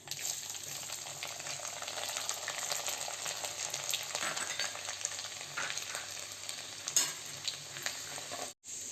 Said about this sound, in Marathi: हे पहा, आपला लसूण आता छान फ्राय झालेला आहे.